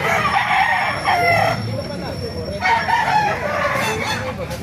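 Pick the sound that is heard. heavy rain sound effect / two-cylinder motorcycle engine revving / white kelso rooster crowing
white kelso rooster crowing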